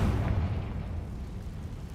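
A Confringo blasting spell explodes in Hogwarts Legacy with a loud, deep boom that rumbles and slowly fades over about two seconds.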